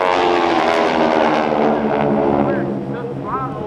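Aeroshell aerobatic team aircraft fly a formation barrel roll at an airshow, a loud, sustained droning roar of several engines with unmatched throttles that slowly eases, heard at a distance.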